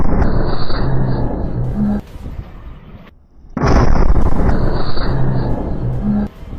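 An Israeli D9 bulldozer is blown up in news footage from Gaza: a heavy, roaring blast rumble that cuts out abruptly, then surges back as a second loud burst, with faint tonal beeps laid over the noise.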